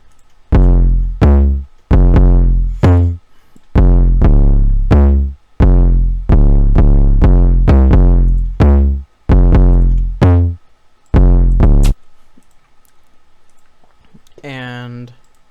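A deep, booming bass line from a trap beat plays a loud, repeating pattern of heavy, punchy notes for about twelve seconds, then cuts to near silence before a brief voice is heard.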